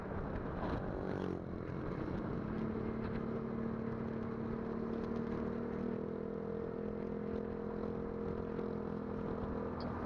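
A Click 125 motor scooter rides along a winding road with many curves. Its engine gives a steady, continuous hum under rushing wind and road noise for the whole stretch, with no talking.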